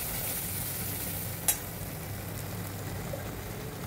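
Water goes into masala frying in oil for a Vidarbha-style vegetable dish, and a steady, soft sizzle follows, with one brief sharp crackle partway through and no talk.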